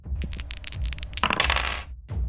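Dice roll in a dungeon video game, a quick series of clattering, rattling clicks and taps that builds into a dense burst of tumbling then stops, close and clear with no talk.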